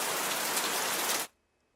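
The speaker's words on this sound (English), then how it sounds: "I'm going to play some rain sounds." Recorded rain plays loudly through a speaker as a steady, dense hiss, then cuts off abruptly after about a second, leaving near silence.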